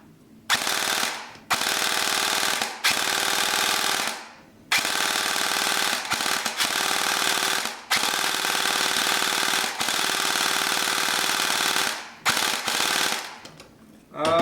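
A Firecow M249 SAW gel blaster fires long, rapid full-auto bursts, a loud mechanical buzzing rattle broken by short pauses, repeated several times over about fourteen seconds.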